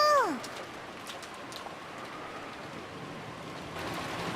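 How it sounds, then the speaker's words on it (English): Steady rain falls in the visual novel game Umineko, a soft continuous hiss opening with a brief chirp-like tone, no voices. "And we're running outside in the rain."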